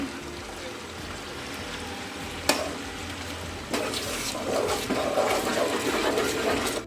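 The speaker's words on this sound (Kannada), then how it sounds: "ನಂತರ ಇದಕ್ಕೆ 1 ಟೇಬಲ್ ಸ್ಪೂನ್ ಅಷ್ಟು ಕ್ರೀಮ್ನ ಮಿಕ್ಸ್ ಮಾಡ್ಕೊತಾ ಇದ್ದೀನಿ." Cream being stirred into simmering dhaba-style paneer masala gravy: a steady bubbling sizzle with soft scraping stirs, a sharp clack near the middle, then louder, busier stirring and frying toward the end.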